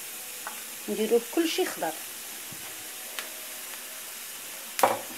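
Chopped green vegetables, green pepper, hot pepper and tomatoes frying over medium heat in a pan, with a steady soft sizzle throughout, a few stirring clatters, a sharp clink near the end, and someone talking briefly over it.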